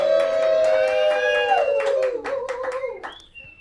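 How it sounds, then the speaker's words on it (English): An audience at a live talk show applauds, with a dense patter of handclaps under a sustained whoop or cheer that fades out toward the end. "Big round of applause to Lost 40."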